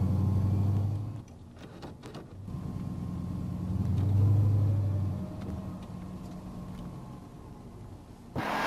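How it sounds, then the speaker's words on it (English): A General Motors car with a 4L60E transmission drives on a road test, giving a low, steady interior rumble that rises and falls as it accelerates and shifts, with some faint clicks and no voices. "First, let's road test the vehicle to see if the transmission is in good working condition"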